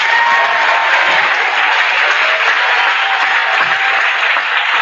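A crowd at a Catholic versus Pentecostal church debate applauds in a thick, continuous roar of clapping that stays level for several seconds, with no voices over it.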